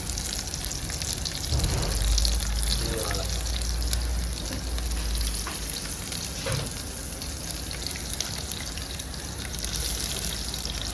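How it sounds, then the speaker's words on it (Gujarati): Cumin tempering with chilli, tomato and onion sizzles steadily in hot oil, a continuous bright crackle with a few stirring scrapes and low rumbles, close by. "જીરાનો તડકો મારી દીધો છે."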